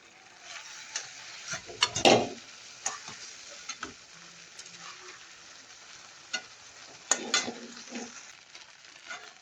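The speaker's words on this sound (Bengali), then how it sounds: "এই যে মাছের মাথাটাও দিয়ে দিছি গুলাকে একটু হালকা করে কষাচ্ছি" A fish head frying in a pan of oil, steady crackling sizzle with sharp spatters and stirring clatters near the mic, no talking.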